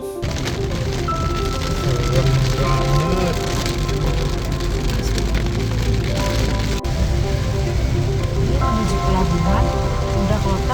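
Steady, dense rain pours throughout, a constant hiss under a low rumble and faint tonal hum, with no talking.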